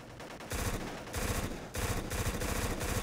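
Uzi submachine gun fire in the video game Black, loud rapid automatic bursts in several long strings with short gaps, no talking.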